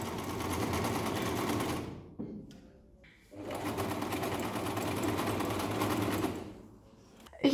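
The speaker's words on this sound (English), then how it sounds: "Sewing patches on a ready jeans wasn't easy as well" Sewing machine stitching patches onto wide leg jeans, running steadily in two long bursts separated by a brief pause, close and fairly loud with no talk.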